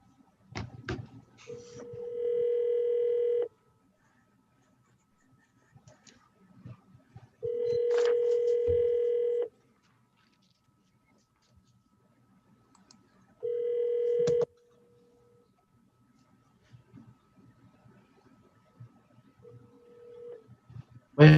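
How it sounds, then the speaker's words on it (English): A phone call placed over a Zoom meeting rings out as three long, loud electronic ring tones with silent gaps between them, followed by a brief shorter tone near the end. No one speaks. "Let's see if he'll answer the phone."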